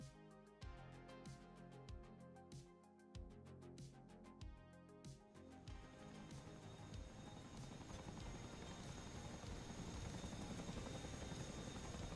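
A helicopter in a multiplayer military video game set in Syria, its rotor chopping in a steady rhythmic beat that gradually gives way to a dense, loud engine roar and buzz.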